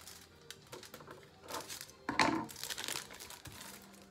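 Thin metal foil crinkles and crackles in close, quiet bursts as it is wrapped and pressed around a shape during metal tooling craft work.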